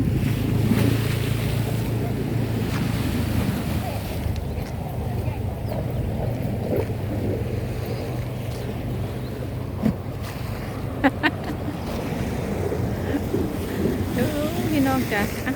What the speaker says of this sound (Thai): เสียงคลื่นซัดสาดเหมือนเดิม